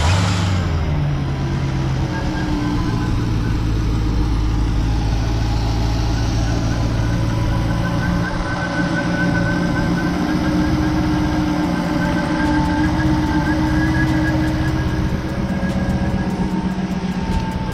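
A Jeep Grand Cherokee Trackhawk engine idles steadily during intake cleaning, a continuous low rumble that stays loud and even from start to finish, with no talk over it.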